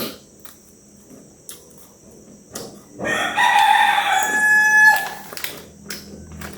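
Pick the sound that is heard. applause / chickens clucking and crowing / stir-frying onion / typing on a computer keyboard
chickens clucking and crowing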